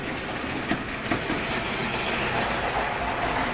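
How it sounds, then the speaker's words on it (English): A Lego toy train runs around its track layout at full speed, giving a steady rolling rumble with a couple of faint clicks as it passes over the joins. "Let's make the train go around a couple times."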